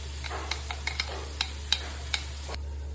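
Onions sauté with crushed ginger, garlic and green chilli while a spoon scrapes and taps the pan in short uneven strokes over a steady low sizzle and a constant background hum, nearby.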